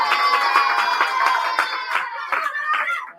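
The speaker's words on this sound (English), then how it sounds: "a big round of applause for Yaakov Shimon Lazar" An audience cheers at a children's year-end school event, with loud, bright young voices shouting together over scattered clapping. The noise swells and then fades away toward the end.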